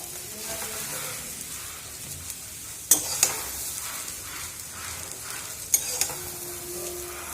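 Fried yardlong beans being stirred into a mashed lentil paste, with a steady sizzling bed under scraping stirs and a couple of sharp clinks from the spoon against the pan.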